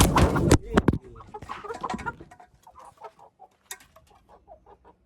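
Chickens cluck close by, opening with a loud burst of squawking and then settling into scattered short clucks. No talk is heard.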